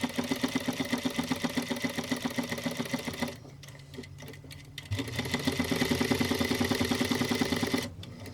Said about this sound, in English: Okay, now it's time to sew the belt.